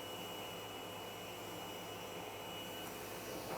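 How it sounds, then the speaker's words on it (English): A DTF printer's powder shaker whirs steadily with a dense, even mechanical hum throughout and no clear drop in level, and no one is talking. "I'm going to turn the shaker speed down to 0."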